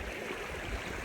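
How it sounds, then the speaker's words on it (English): A river flows through the Mongolian countryside in the early morning, a faint, steady rushing of water with no voices. "So yeah, this is the river."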